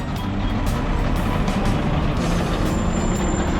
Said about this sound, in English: Got the ice cream truck over here.